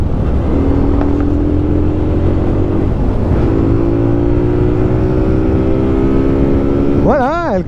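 A Benelli Leoncino 125 cc motorcycle accelerates through the gears as its engine note rises steadily, then a gear change, then another climbing pull, close and loud. A sharp revving surge comes at the very end.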